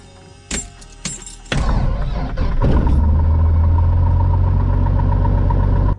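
A small airplane's propeller engine starting: a few clicks and cranking thumps, then the engine catches and settles into a loud, steady, throbbing idle close by.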